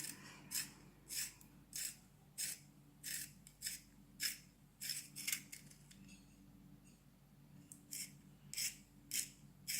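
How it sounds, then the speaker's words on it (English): A new pencil sharpener sharpens a pencil with quiet, rhythmic scraping strokes repeating steadily, with no talking. "Even though I purchased a new pencil sharpener, this one is much better than the old one."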